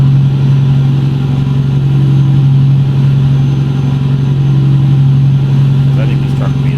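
Detroit 12.7 diesel truck engine in American Truck Simulator, a steady loud low drone at constant revs, continuous and even throughout with no talk over it.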